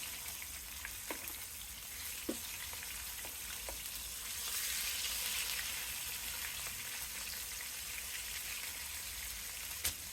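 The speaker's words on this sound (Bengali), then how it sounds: "এভাবে সবগুলো মাছ আমি ভেজে নেব" Katla fish pieces frying in hot oil for a Bengali kalia, a steady close sizzle with a few sharp crackles and pops throughout, no voices.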